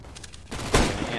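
Gunfire on Counter-Strike's Mirage map: a few faint, quick shots, then a louder burst of fire that peaks sharply and rings out briefly, no voices.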